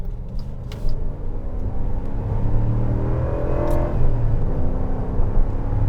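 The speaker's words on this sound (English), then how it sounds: "We are going to jump back on and do pretty hard acceleration" A 2022 Jeep Wagoneer with the 5.7L Hemi V8 accelerates hard up a highway on-ramp, a steady, rising engine drone and road rumble heard from inside the cabin, with no talking.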